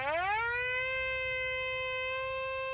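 A Quest X10 Pro metal detector gives its pinpoint signal: a rising electronic tone that climbs quickly and then holds a steady, loud, whining pitch, with faint low background rumble and no speech.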